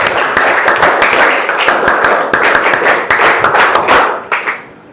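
A room of students clapping together, loud and close, a dense crackle of many hands that builds and then tapers away at the end.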